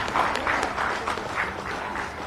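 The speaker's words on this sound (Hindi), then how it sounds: "तालियां आपकी तरफ से स्वागत स्वरूप जोरदार होती रही।" Audience applause welcoming a guest, minister Hafizul Hassan, at a sports policy launch event in Ranchi, Jharkhand; a steady, moderately loud wash of clapping from a crowd that continues evenly throughout.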